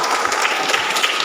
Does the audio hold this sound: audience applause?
yes